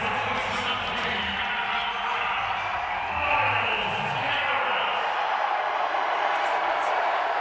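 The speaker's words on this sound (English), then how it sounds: "Loudest cheer of the night." A big crowd roars steadily at the NFL Draft in Cleveland, Ohio, cheering loudly for the hometown Browns pick, a sustained wash of voices and whoops with no pauses.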